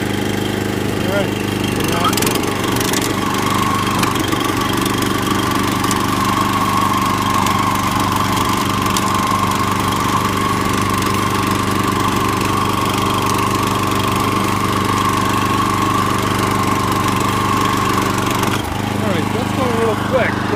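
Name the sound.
Eurosystem RTT3 tiller engine running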